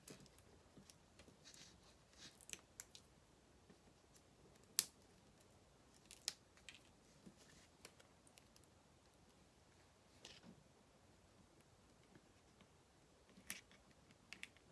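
Scissors snipping craft dimensionals for a Stampin' Up! slider card, faint and close, scattered small clicks and cuts spaced irregularly over a quiet background.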